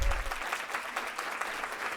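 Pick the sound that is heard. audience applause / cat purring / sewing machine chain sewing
audience applause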